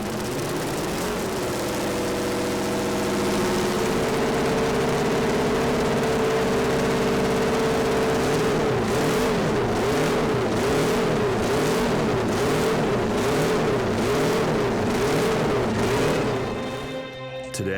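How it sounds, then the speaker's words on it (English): A Honda RC160 four-cylinder race motorcycle engine, a classic museum bike, running continuously and close up, a high-pitched buzzing drone that holds steady, then swells and wavers as the revs rise and fall rhythmically before easing off. "The sound of 4 small cylinders firing at incredibly high speeds."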